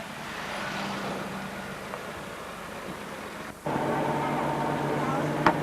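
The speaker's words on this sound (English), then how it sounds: "the cars queuing up now to be led away onto the Sally Gap stage" Rally cars idling as they queue for the Sally Gap stage at the 1988 Wicklow Rally, a steady low engine hum from nearby with a louder engine starting up partway through.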